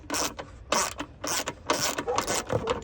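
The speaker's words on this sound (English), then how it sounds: "loosen all these bolts up real quick." Rapid ratcheting and rasping bursts from a wrench loosening the fender bolts on an Infiniti Q50 during a carbon fiber fender swap, in repeated short strokes close to the mic with no talking.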